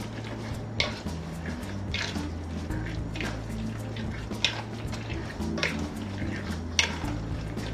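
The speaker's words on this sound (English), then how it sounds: "So we're just gonna mix until everything is incorporated." Carrot cupcake batter being stirred in a bowl: soft, wet squishing with repeated light clinks and scrapes of the utensil against the bowl at an irregular rhythm, close and moderately loud, over a steady low background drone.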